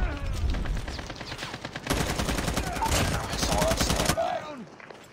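Rapid automatic gunfire from a video game with good graphics, dense bursts of repeated shots through most of the stretch, with players chatting over the action.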